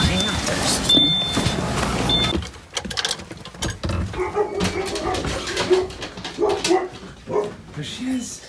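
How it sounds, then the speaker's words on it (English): Several dogs at a dog boarding or daycare place, with yips and whimpers scattered through the clip amid a busy room, while people talk over them. "It's a whole ton of dogs here."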